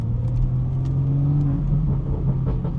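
A BMW 440i car drives in the rain, its steady engine hum and tire rumble continuous and close, with a faint hiss above and no talking.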